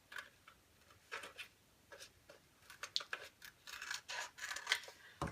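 Scissors trim a printed image closer at its edges for a transfer onto aluminum, making soft, close snips in irregular bursts, quiet and alone.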